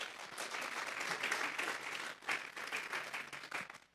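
A church congregation at a Sunday service claps together in a strong, sustained round of applause, the sound rising and dipping slightly in waves before fading at the end.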